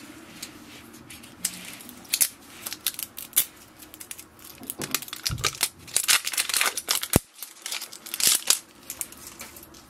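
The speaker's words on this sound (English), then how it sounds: "we have to take the ink cartridges out of the plastic packaging" Setup ink cartridges for a Canon PIXMA TS700 printer pulled from their plastic packaging, with close crinkling, crackling and tearing of plastic in irregular bursts, alone with no talking.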